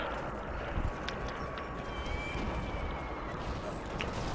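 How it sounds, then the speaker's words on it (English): Horse galloping in the Battlefield 1 video game, a steady broadband rush with soft thudding hoofbeats running under game noise, with no clear talk over it. "I can't control my horse."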